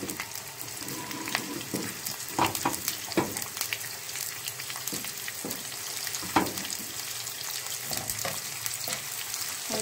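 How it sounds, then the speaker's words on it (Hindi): Chopped onions frying in a pot of dal chana, a steady moderate sizzle broken by occasional scraping stirs and sharper crackles. "और प्याज को हम इसमें ब्राउन कर लेंगे।"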